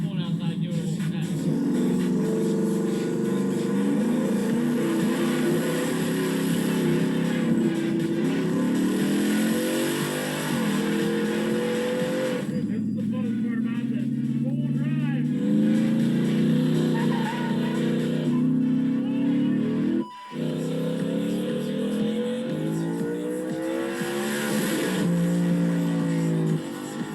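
A 1000-horsepower mini Ford Raptor race truck engine revs hard and loud throughout a test drive, with rising and falling pitch as it accelerates, a brief drop near the end, and a voice talking over it.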